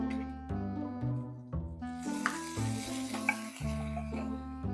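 Corned chicken and onions fry in a pan with a steady sizzle and occasional stirring scrapes, heard under continuous background music.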